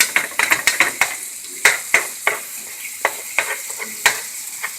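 Meat sizzles and fries in a pan while being stirred, with repeated sharp scraping strokes over a steady close crackle, for a ground-meat macaroni skillet dish.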